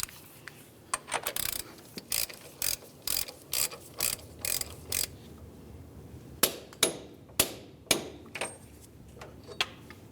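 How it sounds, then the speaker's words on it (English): A ratchet with a 32mm socket snugs the front driver's-side CV axle nut on a 2010-2013 Ford Transit Connect, giving close, crisp bursts of rapid clicking strokes, repeated with short pauses and a few sharper knocks near the end. "You can use a ratchet and your 32mm socket"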